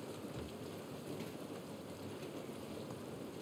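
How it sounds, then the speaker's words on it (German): Rain falling in the video game The Last of Us Part I, a dense, even hiss of drops that holds steady throughout at low level with no voices. "Der Regen ist einfach fantastisch."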